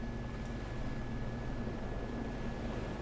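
A helicopter in the video game DayZ gives off a loud, steady engine roar and low rotor drone with a thin whine on top, constant throughout with no speech.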